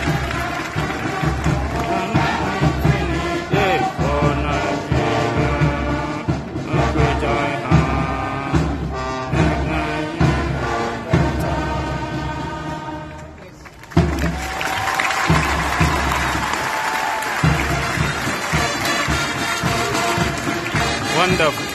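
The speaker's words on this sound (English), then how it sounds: "the crowd reaction" A large crowd cheers and applauds at the Royal Edinburgh Military Tattoo during a Nigerian military contingent's performance, a dense, sustained roar that dips briefly and then swells again near the end.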